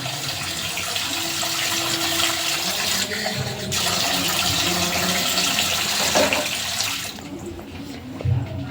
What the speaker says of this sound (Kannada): ಇವಾಗ ನೀರು ಆ್ಯಡ್ ಮಾಡ್ತೀನಿ ಸ್ವಲ್ಪ, ಒಂದು ಅರ್ಧ ಲೋಟ